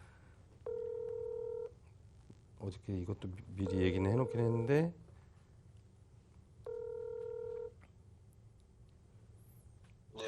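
A phone call being placed to a team leader at OKX Korea during a live broadcast: two long ringback tones repeat about six seconds apart, with someone talking between them.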